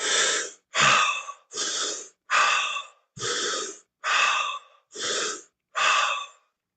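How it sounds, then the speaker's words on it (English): Eight fast, deep breaths drawn in and pushed out through the mouth in a steady rhythm, loud and close, each a breathy rush separated by short pauses, with no talking. "It's a deep, deep breath. So it's like, this is like full speed right here."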